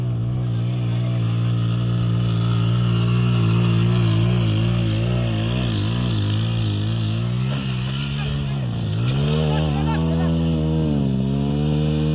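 A loud, steady motorcycle engine drones close by at a local motorcycle race in Daykundi, Afghanistan, its pitch rising and falling as it revs, then dipping and climbing again near the end.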